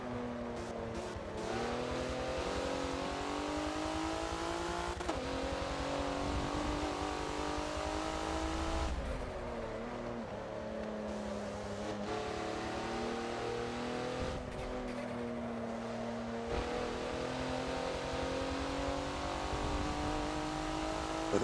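Race car engine in the Forza video game at the Hockenheimring, revving continuously with repeated gear shifts and throttle lifts, a loud sustained drone with faint tire squeal throughout.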